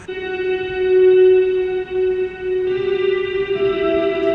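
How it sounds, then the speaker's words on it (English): A single sustained electric guitar note swells and lingers in a wash of heavy reverb, loud and steady, with a second tone joining near the end. "It's basically just a bunch of reverb on the guitar"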